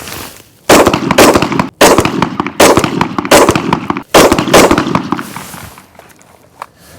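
Sharp, loud gunshots ring out at a police shooting range, a rapid series of close reports fired in several quick strings, then a quieter tail.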